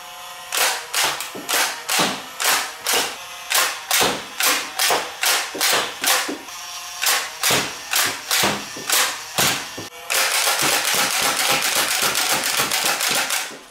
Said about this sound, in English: Here's a quick firing demo of the Stockade.